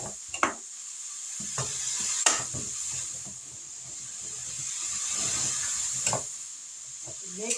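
Canned corn and mixed vegetables with their liquid poured into a pot of hamburger soup and stirred, giving soft wet sloshes and scraping clinks of a spoon against the pot, fairly close, under a steady hiss.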